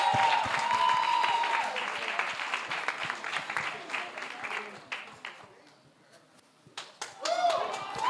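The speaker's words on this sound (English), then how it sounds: "Huge round of applause." Audience applause during a fintech challenge semi-final event, loud dense clapping that thins out and fades near the end before a brief renewed burst, with voices mixed in.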